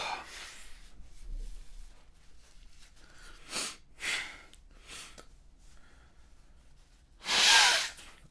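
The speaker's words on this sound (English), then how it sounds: "Watch me blow my nose." A loud, breathy nose blow bursts out near the end, preceded by a few shorter sniffs and snorts in an otherwise quiet indoor room.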